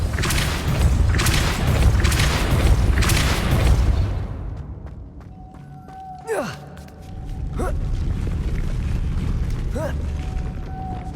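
Depulso spell cast in Hogwarts Legacy on PS4, with a rumbling, gusty blast of repeated booms followed by creaking, ratcheting mechanism sounds and sharp whooshing swishes over a low steady background.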